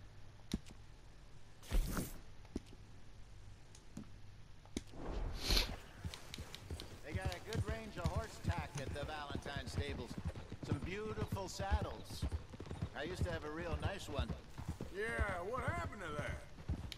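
A horse's hooves clip-clopping at a walk in Red Dead Redemption 2, a steady soft rhythm running under near-continuous talk and game dialogue, with a couple of louder thumps early on.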